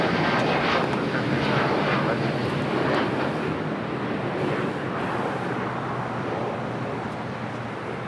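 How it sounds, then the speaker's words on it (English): An airliner on Flight 8 bound for Paris at LAX airport gives a steady, loud broadband roar of jet engines, continuous and close, with no voices over it. "It's that Flight 8 heading to Paris."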